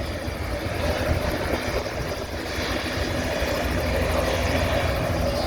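A helicopter passes overhead at a fair ground exhibition in Canada, its steady rotor drone and engine noise loud and continuous with no talk over it.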